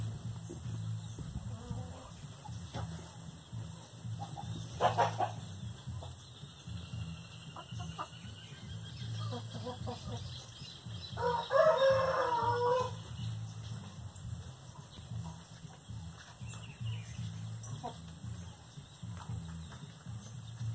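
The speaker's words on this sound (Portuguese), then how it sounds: "Frango novo, olha o tamanho dele." Young Índio Gigante crossbreed chickens cluck in a farmyard, with a brief louder crowing-like burst midway standing out over a steady low background hum, and speech is faintly present.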